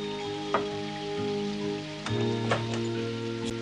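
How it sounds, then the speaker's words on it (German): Steady rain falls in a Moomins cartoon, a continuous patter of drops on surfaces with a few brighter splashes, mixed with soft background music and no talking. "An jenem Tag hatte es schon am frühen Nachmittag begonnen zu regnen."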